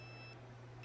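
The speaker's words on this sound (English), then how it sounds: "You're beeping." An electronic device beeps with steady high-pitched tones in a quiet room, pausing briefly midway and resuming at the end, under a low continuous hum.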